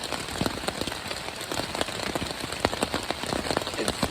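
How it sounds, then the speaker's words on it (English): Heavy rain pours steadily onto a tent, a dense continuous patter with scattered louder drops striking the fabric close by, no voices. "It's literally been pouring"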